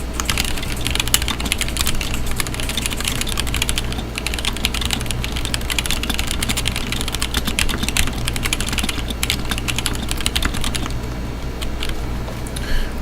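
Continuous fast typing on an M65-A mechanical keyboard with Tealios switches, a dense, close patter of clicky keystrokes that thins briefly near the end, over a faint low hum.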